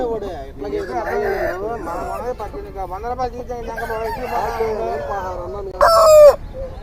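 A rooster crows once, loud and close, near the end, amid the clucking of hens at a busy country chicken market in Nallapadu, with people talking over the fowl throughout.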